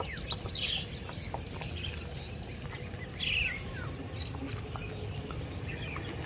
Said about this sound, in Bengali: পাখির কলকাকলি